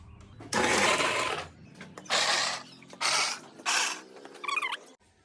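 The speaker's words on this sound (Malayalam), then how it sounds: "നമുക്ക് ഇഞ്ചി വെളുത്തുള്ളി ഇനി ഒന്ന് ക്രഷ് ചെയ്തെടുക്കാം കേട്ടോ" Ginger and garlic being crushed in a kitchen while making kappa biryani, a series of four loud grinding bursts about a second each with short pauses between, ending with a brief higher squeaky whirr.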